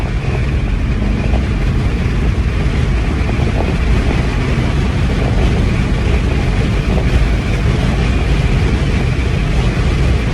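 A car drives fast on an open road, a steady loud roar of engine, tyre and wind noise with no break and no talking.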